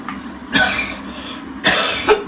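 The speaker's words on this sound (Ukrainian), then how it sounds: "Це зранку ще відкашлюється в мене." A person coughs twice, sharp and close, then briefly clears their throat.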